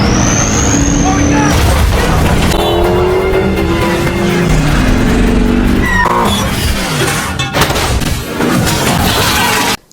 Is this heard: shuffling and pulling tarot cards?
no